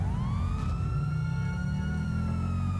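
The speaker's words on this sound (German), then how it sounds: "So, jetzt machen wir mal Martinshorn an." A police car siren in the video game GTA V wails steadily and loudly, a rising and falling tone over continuous low engine rumble, with no talking.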